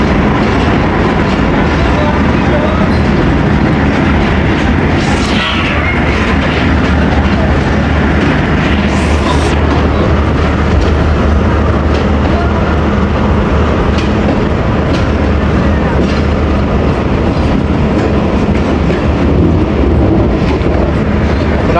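A Rehman Baba passenger train running out of Rawalpindi roars continuously, with a loud, dense rumble and rattling rail clatter heard from on board for the whole stretch.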